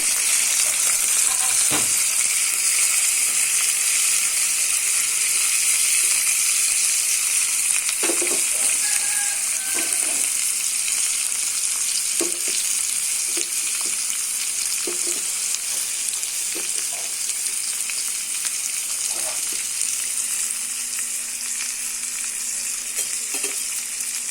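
Ivy gourd (dondakaya) frying in oil in a pan, a steady close sizzle with scattered scraping and clinking from stirring throughout.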